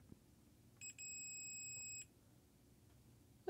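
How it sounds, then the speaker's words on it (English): A brief electronic beep, likely from a multimeter probing a Tektronix 465 oscilloscope's power supply during repair: a short chirp followed by a steady, fairly quiet tone lasting about a second, in a quiet room. "That beep you heard from plus 5 momentarily was probably a filter capacitor charging up from ground."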